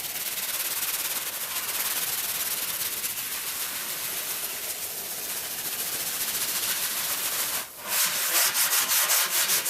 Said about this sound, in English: then I switched to the stainless steel scrub pad